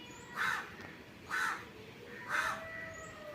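Crows caw at midday, three separate harsh calls about a second apart over a steady outdoor background hum, moderately close.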